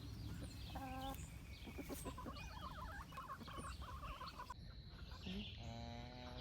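Hens clucking inside a backyard chicken coop, several birds making repeated close clucks and soft trills over a steady background noise.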